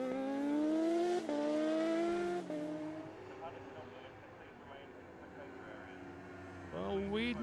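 Racing motorcycles at the Oliver's Mount road race, high-pitched engines screaming past up close in the first seconds, then fading into the distance before another rising whine arrives at the end, with a commentator talking throughout.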